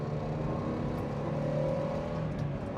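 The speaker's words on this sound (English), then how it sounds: "You can just heel toe it down the gears, get it turned in, keep it within the white lines." Mark-1 Mazda MX-5 engine during heel-toe downshifting, heard as a steady close-up drone with a small rev blip at the very end.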